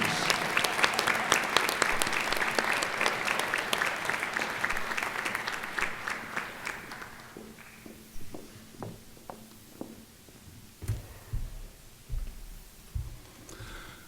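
An audience at an honors convocation claps for the honorees, a full sustained ovation that thins out after about seven seconds into scattered claps and a few shuffling footsteps.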